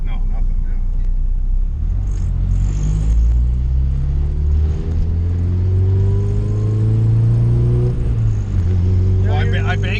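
A tuned Honda with aftermarket injectors accelerates hard, its engine note climbing in rising sweeps with gear changes, heard loud from inside the car alongside voices.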